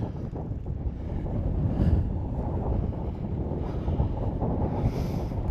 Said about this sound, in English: That's a sustained gust.